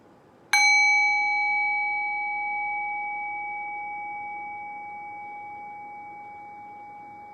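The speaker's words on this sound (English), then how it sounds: "now ring the sound of the bell again" A single meditation bell is struck once, ringing out clear and bright, then its pure tone slowly decays over several seconds into near silence with no talk.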